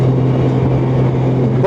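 Low, steady engine drone from a 2024 Honda Gold Wing motorcycle's exhaust, heard while riding, humming continuously throughout with a brief rising whine near the end.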